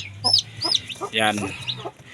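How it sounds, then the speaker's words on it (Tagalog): Hen with newly hatched chicks on a small farm, soft clucks and high peeping calls close by in a short, busy sequence, with a brief spoken word among them. "ililipat natin dito ang aking bagong pisa ng mga sisiw ko mga kamanok"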